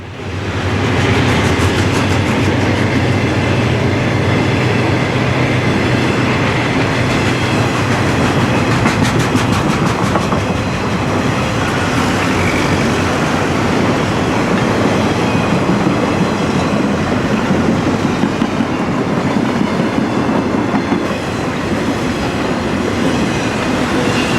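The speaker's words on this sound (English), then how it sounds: "a trailer train is wasting no time moving through Summerhill, headed for Galitzin and Altoona" A Conrail trailer train climbs through Summerhill, a loud, continuous rolling roar of wheels and cars with rhythmic clickety-clack passing close by for the whole stretch, no voices.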